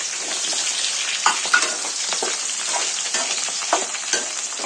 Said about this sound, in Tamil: நல்லா கோல்டன் பிரவுன் ஆகுற வரையும் நல்லா கிண்டிக்கலாம்